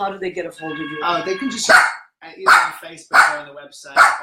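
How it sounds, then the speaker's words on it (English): A pet dog named Rizzo barks several times, sharp and close, in an indoor conversation; two people talk before and between the barks. "that's my dog"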